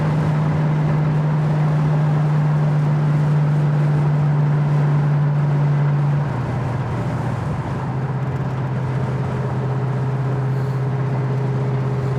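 A 1973 Ford Mustang Fastback cruising at about 55 mph, heard from inside as a steady engine drone with road and wind rumble, the engine note dipping slightly partway through.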